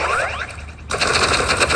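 Energy pistols firing in the Roblox game Rivals: a rising synthetic zap, a short pause, then a rapid burst of buzzing electronic shots, loud and close.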